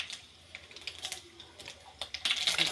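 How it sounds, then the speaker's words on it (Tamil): Mustard seeds splutter in hot oil with sharp, irregular crackles and pops close by, growing busier toward the end. "வாங்க ஃப்ரெண்ட்ஸ், கடுகு போட்டுக்கலாம்"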